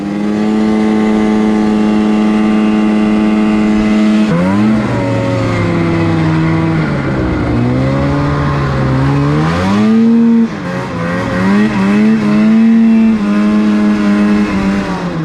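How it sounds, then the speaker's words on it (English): An old Ski-Doo Elan snowmobile engine, without brakes, runs loud and close, its buzzy two-stroke note rising and falling through repeated revs and throttle swells with no talk over it. "Nick seems to be enjoying that old Elan, but I don't think Lance told him it doesn't have brakes"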